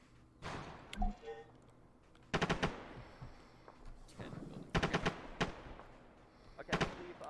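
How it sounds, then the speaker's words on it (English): Light machine gun fire from a technical in the ARMA 3 video game sounds as scattered short bursts and thuds at a moderate distance, clustered in a few volleys, with voices talking quietly over parts of the firing. "Technical. Light machine gun, probably."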